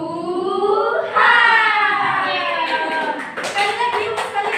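In a Grade VII classroom, children chant together loudly while scattered hand claps come in toward the end, close and lively.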